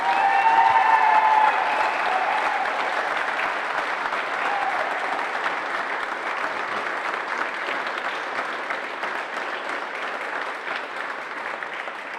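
Sustained applause and cheering from an indoor crowd for the players after a senior singles handball final on a 40x20 court, steady and dense throughout, slightly louder at the start and without any speech.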